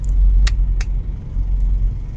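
Steady low road rumble from passing cars in Pansol, a continuous traffic drone with a couple of brief higher clicks near the start and no talking.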